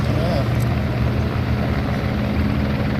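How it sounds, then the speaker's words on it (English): A helicopter landing near a train line makes a steady, fairly loud rotor and engine drone that fills the whole stretch. "there's the helicopter landing at the same time"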